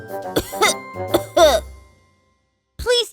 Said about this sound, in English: Cough for me, please.